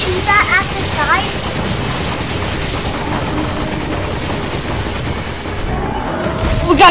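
Rapid gunfire bursts from the video game Resident Evil 5 crackle loud and dense throughout, with chirping game effects layered on top.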